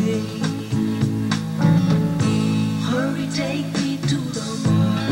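A song plays through a repaired 8-track tape player converted from a radio, steady music with vocals and instruments at moderate volume, continuous throughout.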